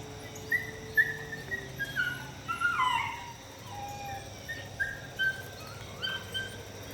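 Dogs howl and whimper in a garden at the end of summer, their rising and falling wails repeating in short bursts at moderate distance over steady outdoor background noise.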